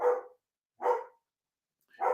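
A pet dog barks in three separate loud, close bursts spaced roughly a second apart, with quiet gaps between each bark and no talking.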